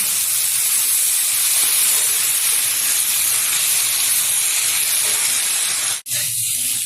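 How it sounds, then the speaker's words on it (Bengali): Washed jute leaves, left coarsely chopped, hit a hot pan and are stirred. A loud, continuous steamy hiss and sizzle runs nearly the whole time and breaks off briefly near the end, with no talking. "এখন দিয়ে দেবো এর মধ্যে ধুয়ে রাখা পাট শাক, বেশি কুচাইনি, একটু নেড়ে নিচ্ছি।"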